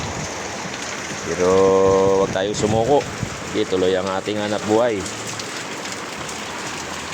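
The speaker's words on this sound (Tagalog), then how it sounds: "Ulan." Steady rain falls throughout during a typhoon, a constant hiss that runs beneath a person speaking loudly and close up for most of the stretch.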